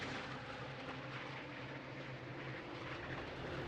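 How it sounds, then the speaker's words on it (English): AIM-7 missile streaking through the air in a Sea Power naval combat game, a steady, dense roar holding at constant loudness with a low droning hum beneath and no pause. "That's an AIM-7."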